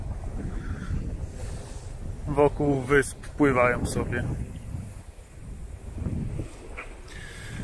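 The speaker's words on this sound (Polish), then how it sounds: "Zaczęło ładnie wiać, także płyniemy." Wind buffets the microphone steadily aboard a sailing boat in the Bristol Channel, with splashing water beneath and someone talking over the gusts.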